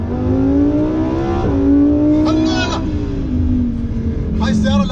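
A Lamborghini's exhaust in Sport mode roars louder, with rising revving tones that climb and shift over a few seconds, close and strong, while a voice talks over it.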